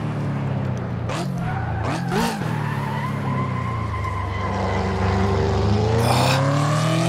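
A race car laps Laguna Seca in Assetto Corsa, its engine revving and shifting pitch while tires squeal and skid through a corner, loud and close throughout, with a sharp burst near the end.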